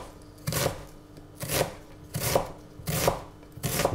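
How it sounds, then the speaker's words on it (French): An onion being chopped on a board, five slow heavy knife strokes about a second apart, close and distinct with quiet gaps between, no voices. "On va maintenant s'occuper de l'oignon."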